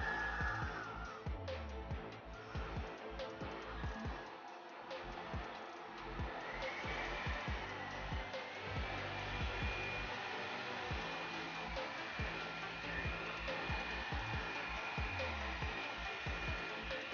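Revlon One-Step hair styler blowing air on its medium setting, a steady close whooshing hum that runs unbroken for the whole stretch.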